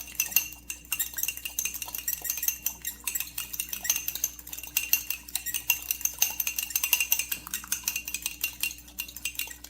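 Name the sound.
egg being scrambled with utensil in a cup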